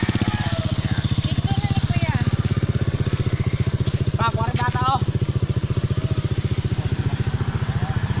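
A motorcycle engine drones steadily throughout with a rapid, pulsing rhythm, close and loud, while faint voices and brief chirps sit under it.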